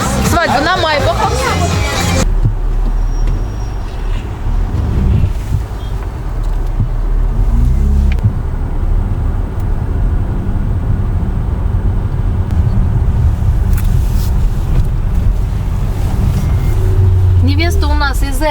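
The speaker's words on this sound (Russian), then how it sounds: "брат жениха присел в Майбах и поехал за невестой, и мы сейчас все вместе с вами едем" A Maybach car drives in a wedding convoy through a Chechen village, its steady road and engine rumble continuous throughout, with people chattering inside the car and over the drone.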